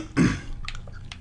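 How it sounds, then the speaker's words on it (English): A single short, close cough, a brief harsh burst followed by faint throat and mouth noises. "Oh, God, I had to cough."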